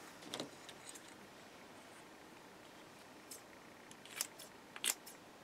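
Scissors snip loose thread ends off sewing-machine bobbins in a quiet room, giving a few sharp, faint clicks spread across the moment, with a close double snip near the end.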